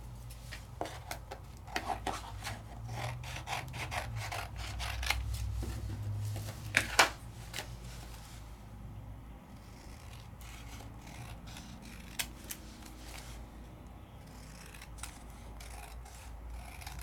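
Scissors trimming a papercraft die-cut piece, with quiet snips and paper rustling in a steady, close rhythm and a couple of sharper clicks, no talking.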